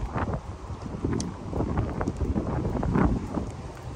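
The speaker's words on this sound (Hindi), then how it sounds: "हवा चल रही है।" Wind gusts buffet an outdoor microphone in irregular low rumbling bursts, loud and close, with no talking.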